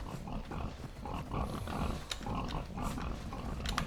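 Pig grunting in DayZ, a run of rough, snorting grunts repeating at close range over a steady background, with no talk.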